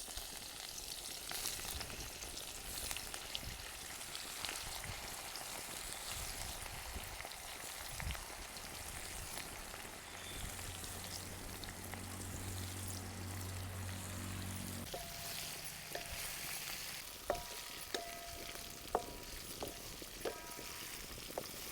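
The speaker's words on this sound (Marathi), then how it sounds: "तेल गरम झालंय, कारले सोडून घेऊ." Bitter gourd slices fry in hot oil in a kadhai, giving a soft, steady sizzle with occasional stirring scrapes and a few sharp clinks of metal toward the end, quiet and close.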